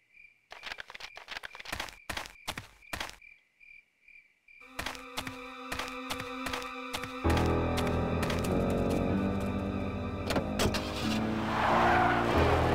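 A car in the video game Full Throttle starts with rapid clicks, idles, then revs up into a loud roaring drive with squealing tires and a skidding rush, building to a noisy peak at the end.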